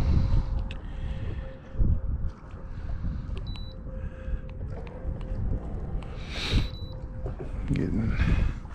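Wind roars across a fishing boat on open water, a dense low rumble of microphone buffeting that rises and falls throughout, with brief splashes and distant voices underneath.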